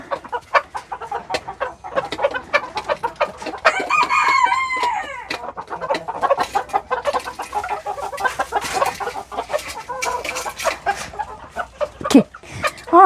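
Silkie chickens cluck busily and continuously close by in a chicken coop, with a rooster crowing once partway through.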